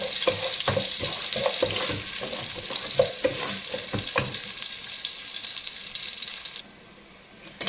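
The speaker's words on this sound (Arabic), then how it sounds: "بناخد شويه رز وبنحمرهم الاول" Rice is toasted in a pan before the rest is added, giving a continuous sizzle with scraping stirs. Frying is close and moderately loud, then drops abruptly to quiet near the end.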